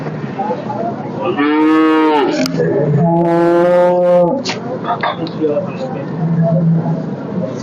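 A buffalo at a livestock market lows loudly twice in long, drawn-out moos close by, with quieter rustling and shuffling between the calls.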